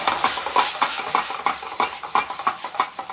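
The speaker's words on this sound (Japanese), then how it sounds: "よく炒めるのが、コツです" Vegetables stir-fried in a pan while making bread soup from leftover ingredients, a steady sizzle broken by rhythmic scraping strokes of the spatula about every third of a second, close and clear.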